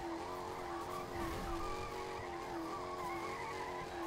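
Steady car engine drone with a long tire squeal from skidding under hard braking in the video game Fortnite, continuous and loud, with no talking.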